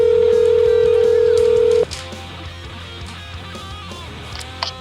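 Telephone ringing on a guitar call-in radio show, a steady loud tone lasting nearly two seconds before cutting off abruptly, then quieter studio background.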